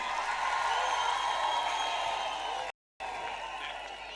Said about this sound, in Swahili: Wapi makofi ya Mheshimiwa Cecilia?